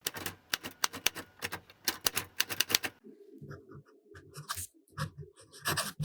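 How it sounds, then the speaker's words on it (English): A fountain pen with a soft fine nib writes on 20-pound copy paper, making quick scratchy strokes in close bursts, first in a rapid tapping rhythm and then as sparser, irregular scrapes, with no voices. "The last writing sample is done on 20-pound copy paper."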